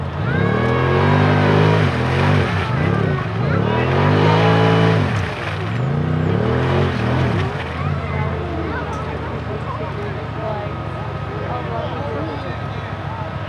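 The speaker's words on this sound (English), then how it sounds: "We've got the side-by-side checking out the Mudinator again." Side-by-side UTV engine revving hard through a mud bog at an event, loud rising and falling whines over the first half, then a steadier drone with a voice talking over it.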